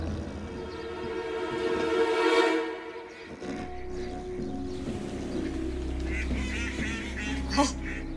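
Waterfowl honking and quacking outdoors, a few loud calls early on and a sharp burst near the end over steady low background rumble.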